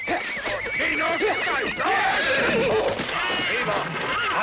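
Horses neigh and whinny amid loud, shouted voices in a Western battle scene, the calls rising and falling repeatedly over a dense, chaotic din with continuous yelling throughout.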